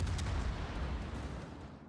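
Battleship secondary guns fire in a naval combat game, a dull rumbling boom with low thumps that fade over two seconds, fairly quiet and distant, with no voices.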